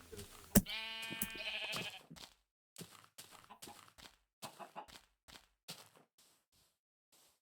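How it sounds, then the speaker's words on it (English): A Minecraft sheep gives one clear, close bleat followed by a few brief in-game clicks and thuds that fade into quiet. "Looks like one of the sheep has finished growing."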